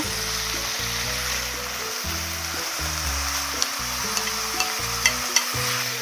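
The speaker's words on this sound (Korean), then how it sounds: "다진 육이 한 절반 정도 익었을 때 우엉을 넣고 같이 볶겠습니다" Minced beef and burdock stir-fry in a hot pan, giving a continuous sizzle with scraping utensil strokes and occasional sharp pops, close and steady with no talk.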